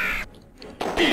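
Crows in the video game Exile give short harsh caws in two bursts, one at the start and one at the end, separated by a near-silent gap.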